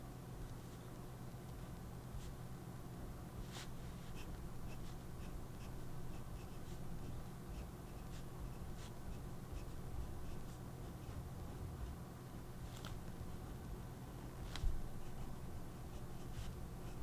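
A pen draws steady, soft scratchy strokes across paper throughout, with occasional faint ticks over a constant quiet background hiss; no one talks.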